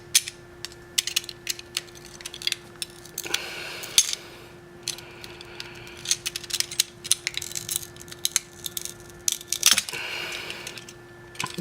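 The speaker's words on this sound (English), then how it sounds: "the glass is going to be cracking while you're doing this stuff" Glass back cover of a Motorola Moto Z3 Play cracking as it is pried off, dense irregular crackles, snaps and ticks close up over a steady hum, with no talking.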